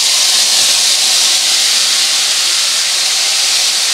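Mustard paste frying in hot oil in a pan, a loud, steady, unbroken sizzling hiss with no talk.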